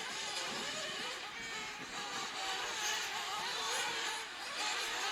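Several 1/8-scale nitro truggy RC cars race in a 15-minute B main, their small engines keeping up a dense, continuous high-pitched buzz and whine with no breaks.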